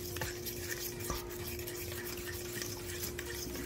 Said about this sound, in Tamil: ஒரு 1/2 lemon juice போட்டுட்டு நல்லா மிக்ஸ் பண்ணிக்கணும்.